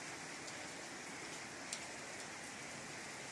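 Steady rain falls at night in the Philippines during a shear line, a constant soft hiss of drops on surfaces with no break, fairly faint.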